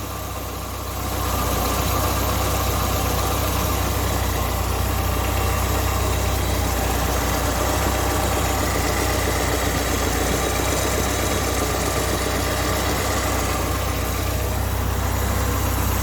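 Car engine idling steadily with a possible exhaust gasket leak at the manifold, a constant low rumble with a faint ticking vibration, close and continuous after a brief quieter start.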